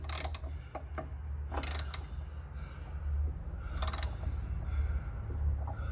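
A bolt on a mower blade-belt tensioner is tightened with a ratchet, giving three short bursts of quick metallic clicking separated by pauses, over a low background hum, close and fairly quiet.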